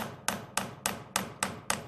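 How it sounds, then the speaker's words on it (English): Six crisp strikes from the flat side of a forging hammer flattening silver wire, evenly spaced and close up, each with a brief ringing decay. "use the flat side of the hammer, and it kind of flattens it out."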